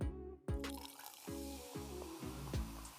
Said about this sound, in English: And then we're going to top off with some sparkling wine.